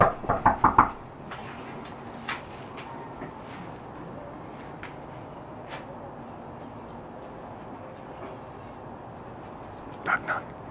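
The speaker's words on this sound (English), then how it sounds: "Knock knock." Knocking on a front door on Christmas: a quick close burst of several raps, quiet room tone, then a second short pair of knocks near the end.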